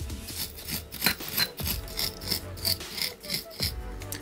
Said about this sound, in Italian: andiamo di nuovo nella paglietta, girate il saldatore perché la punta deve pulirsi tutta